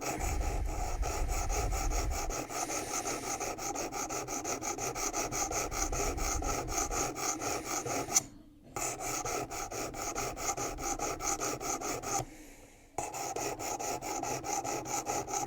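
A knife blade is drawn steadily across a sharpening stone on a WorkSharp Precision Adjust, making a continuous gritty rasp in repeated strokes, with two brief pauses, close and fairly quiet.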